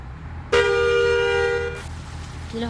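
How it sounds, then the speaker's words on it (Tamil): A single loud Tamil Nadu-style bus horn in the game Bus Simulator India blares steadily for over a second, then cuts off, followed by a brief second honk starting at the end. "இதில் ஹார்ன் எல்லாமே அந்த நம்மளோட தமிழ்நாட்டில் இருக்க அந்த ஹார்ன் தான் இதில் இருக்குது."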